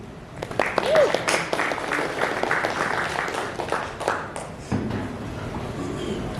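A crowd claps for a coach at a football cup event, scattered sharp hand claps over a busy background, with voices talking through it.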